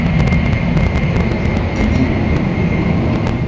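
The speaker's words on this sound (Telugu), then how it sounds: "ట్రైన్ అయితే బుల్లెట్ స్పీడ్ వెళ్ళిపోతుంది." Steady, loud rumble and rushing hum inside a Shinkansen bullet train at full speed on the Tokyo to Hiroshima line, continuous and even throughout with no voices.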